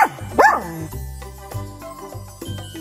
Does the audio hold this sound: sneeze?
no